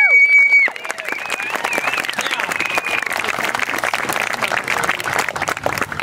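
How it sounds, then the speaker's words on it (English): Audience applause at a film premiere event for a youth contest, a dense, steady wash of clapping that swells after a brief tone and holds evenly throughout, moderately close and filling the room. "big round of applause for Scott"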